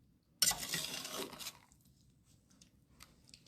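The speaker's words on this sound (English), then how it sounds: "So we'll just stir that all up real good" A pot of queso dip with butternut squash is stirred with a spoon, giving about a second of scraping and clinking, then a quieter tail of small scrapes and taps.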